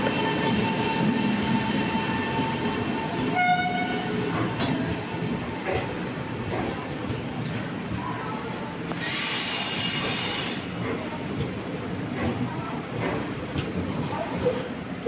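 The Venad Express passenger train pulls out of a station, with a continuous rumble of wheels and carriages, a short horn-like tone early and a brief high screech midway, all close by.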